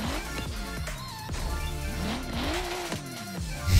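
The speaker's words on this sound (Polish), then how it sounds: "Czekajcie, może włączymy tutaj silnik." A Toyota Supra in Forza Horizon 3 roars to life and revs, engine pitch sweeping up and down in repeated climbs over a steady loud drone, with a sharp burst near the end.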